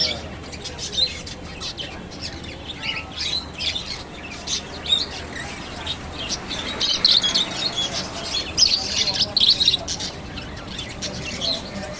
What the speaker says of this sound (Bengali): এত মিষ্টি পাখিগুলো